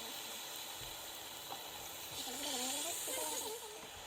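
Chicken fries in a pan with a soft, steady sizzle and hiss, a quiet continuous crackle that swells slightly near the middle.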